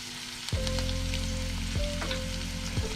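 Chopped onion and green chillies fry in hot oil for veg pulav: a soft, steady sizzle runs under a loud, low droning hum, broken by a few sharp clacks.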